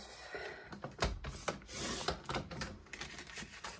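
Scissors or a paper trimmer cut dark green cardstock into 3.5 by 5 inch pieces, giving a run of close, moderately loud rasping snips and slides with no voice over it.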